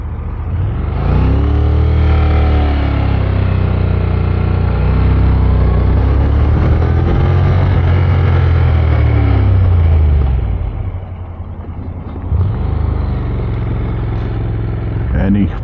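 Motorcycle engines rumbling and revving nearby at a roadside stop in the Peak District, a loud low drone that rises and falls, with someone talking over it.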